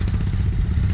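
Royal Enfield Bullet motorcycle engine idling close by, a rapid, even chugging thump with clattery mechanical edges, loud and unbroken through the short span; no distinct backfire pops stand out.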